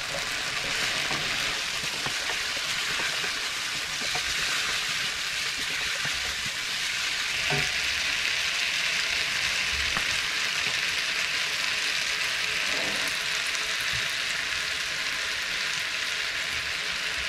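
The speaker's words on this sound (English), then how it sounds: "I'm just going to basically saute off those onions and peppers" Onions and peppers sautéing in a pan for a beef stew, a steady broadband sizzle running the whole time with faint stirring clicks and scrapes underneath, close and even in level.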